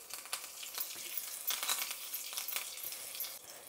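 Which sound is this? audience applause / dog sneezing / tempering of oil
tempering of oil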